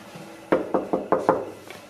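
Five sharp knocks rap on a wooden door in a quick, fairly even rhythm, close and loud, followed by a faint sixth tap.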